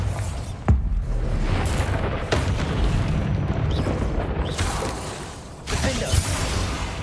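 A Bombarda blast spell cast in Hogwarts Legacy, heavy booming explosions with sharp cracks among continuous rumbling combat noise and scattered impacts.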